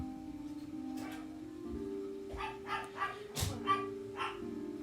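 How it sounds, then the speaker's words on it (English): Chihuahuas yapping in short, sharp bursts in the background of a quiet indoor room, several barks bunched near the end over a steady low hum. "Excuse the chihuahuas, got an attitude problem."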